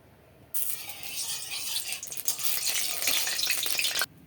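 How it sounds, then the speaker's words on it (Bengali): Oil hisses into a hot wok with a loud, steady sizzle that starts abruptly, holds for a few seconds, then cuts off sharply. "এটা কড়াইটা ভালোভাবে গরম হয়ে গেছে, এবার তেল দিয়ে দেব"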